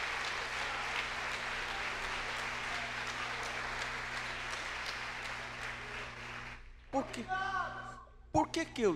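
A church congregation applauds in a long, dense burst of clapping that fills the space, then fades out into a quieter stretch with a voice speaking.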